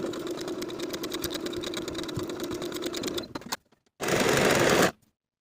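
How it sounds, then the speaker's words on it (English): A sewing machine stitches the shoulder seams of a shirt in a steady, rapid run for about three seconds, pauses, then makes one short final burst, close and alone. "Then we're going to sew the shoulder seams with a 5/8 inch seam allowance"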